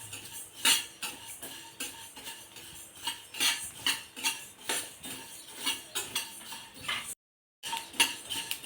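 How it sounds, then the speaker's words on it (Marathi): Cumin seeds being dry-roasted in a pan, with a spoon clinking and scraping against the metal in a steady, repeated rhythm, close and clear with no talking. "साधारण छोट्या चम्मचने 3 चम्मच एवढं जिरं टाकून अगदी 1 मिनिटभर भाजायचं आहे।"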